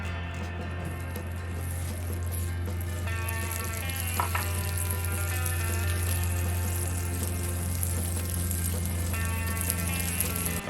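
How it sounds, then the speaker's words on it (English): Onions frying on a grill, a steady, even sizzle with a constant low hum underneath, continuous and close throughout, with no one speaking. "I'm gonna grill my onions"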